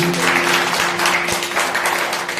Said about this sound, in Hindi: वाह, एक बार जोरदार तालियां हो जाती।